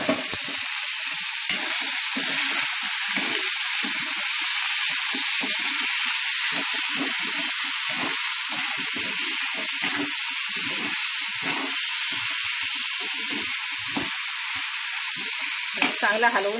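Chicken curry sizzles steadily in a pan over low gas while it is stirred, a constant bright frying hiss broken by scraping stir strokes throughout, close and fairly loud.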